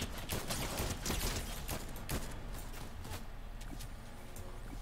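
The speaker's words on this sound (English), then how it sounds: "Is someone else shooting at us?" Rapid gunfire in a video game, dense bursts of shots crackling close and loud throughout, thinning slightly toward the end.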